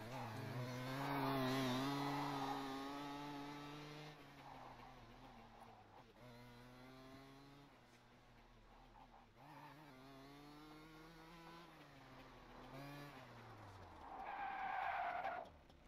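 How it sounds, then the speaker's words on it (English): A high-revving racing kart engine whines loudly during a race, pitch rising and falling as it shifts and passes, with a tyre squeal near the start and again near the end. "Lucas Sturman, the final car to be able to pull back into the pit."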